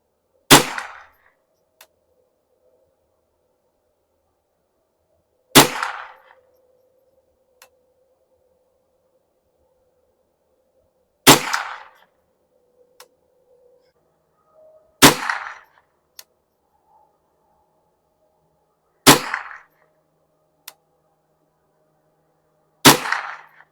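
Six sharp rifle shots at a shooting range, fired from a rifle fitted with a CVLIFE JackalHowl 3-9x40 scope, each a loud crack followed by a brief ringing tail, spaced roughly four to six seconds apart with quiet between.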